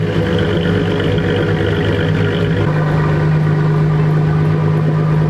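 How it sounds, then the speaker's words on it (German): A Lotus sports car idles just after a cold start, its engine a loud, steady, close-up drone with a constant low hum and a raspy, even tone that holds without any revving. "Kaltstart ist halt immer ein bisschen lauter"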